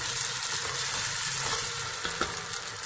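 Tomatoes going into a pan of already-fried garlic for a fish kofta curry, giving a steady, close broadband sizzle with a soft stir or clatter near the end, no voices.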